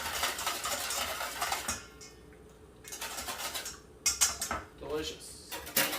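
Dry rub spices with pepper and dill being mixed in a bowl for ribs, giving irregular clinks and scrapes of a utensil against the dish, fairly close and moderately loud with short pauses between strokes.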